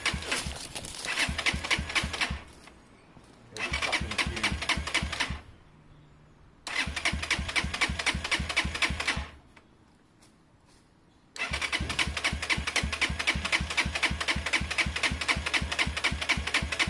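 A Sym XS 125 motorcycle, freshly fitted with an upgraded carburettor, cranks and catches in repeated bursts, its engine revving loudly and close for a few seconds at a time, with short pauses between attempts and a longer final run.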